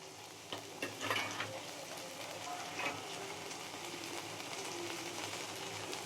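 Spices and jackfruit fry and get stirred in a pan, a quiet steady sizzle with scattered clicks and scrapes from stirring, heard alone at a low level.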